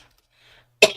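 One sudden cough, short and harsh, breaks a near silence after a faint murmur.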